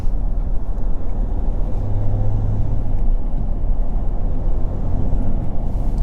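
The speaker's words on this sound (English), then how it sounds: "And that diesel noise." Steady low rumble of the diesel engine in a 2022 RAM 1500 Limited EcoDiesel truck, a continuous drone heard from the cabin while driving, with no talking.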